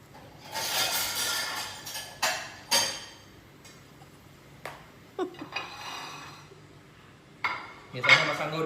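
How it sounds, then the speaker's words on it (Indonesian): White turmeric rubbed against a hand grater, giving intermittent rasping, scraping bursts of uneven length with short pauses between strokes, close and fairly clear, with no talk. "kalian parut. Sedia parutan."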